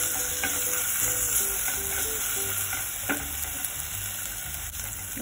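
Ginger garlic paste stir-frying in a pan over browned onions, a steady sizzle with scraping spoon strokes, close and continuous, with faint music or tones running underneath.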